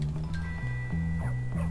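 A dog in the video game Bully Scholarship Edition gives several short barks and yips over a looping, droning game music background.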